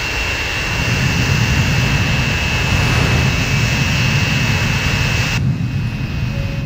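A jet airliner engine roars steadily in the Transport Fever video game. The noise is loud, broadband and constant, with a thin high whine, and cuts back sharply near the end.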